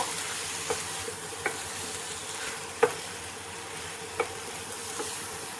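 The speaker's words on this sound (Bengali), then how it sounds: "এবার এঁচড় দিয়ে ভালো করে সব কিছু মিশিয়ে নেব।" Boiled jackfruit stirred into a frying mixture in a pan, a quiet steady sizzle with a few sharp utensil clicks scraping against the pan at irregular intervals, no voices.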